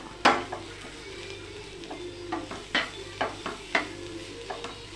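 Clams with pepper sautéed in a pan: a steady sizzle under repeated scraping stirs of a spoon against the pan, about eight or nine strokes at a loose, uneven pace, close and clear, with no talk.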